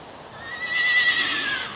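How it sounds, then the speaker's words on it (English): A horse outdoors gives a single clear whinny lasting about a second, fairly close and loud against a quiet breezy background. "Hey, there's a horse."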